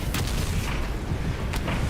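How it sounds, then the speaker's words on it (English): Explosions boom through combat in God of War Ragnarok: a dense, loud roar of low rumble with two sharper blasts cutting through, close and sustained with no pauses. "Oh, it exploded the other one."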